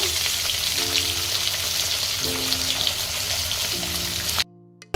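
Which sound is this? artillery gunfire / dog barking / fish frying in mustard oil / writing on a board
fish frying in mustard oil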